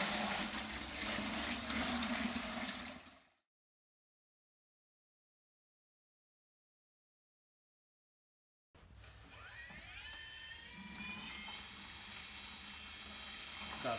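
A homemade Franken pump runs on water, first a rough churning whir, then a gap of silence, then a steady motor hum returning with a rising whine as it settles at half speed, close and loud with no talk.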